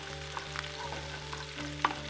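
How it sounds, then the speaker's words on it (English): Chopped onions sizzle steadily while frying in olive oil in a pot for an Asian stir-fry, a close, continuous crackling hiss with a faint clink or two of stirring and no talk. "as you start to hear it sizzle and it turns brown"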